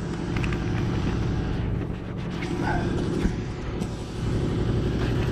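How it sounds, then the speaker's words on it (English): In a shop, an air compressor runs continuously in the background with a low, droning, steady hum, while work goes on to remove the driveshaft and pinion seal of a 2006 Ford F-250. "You can hear the air compressor running in the background."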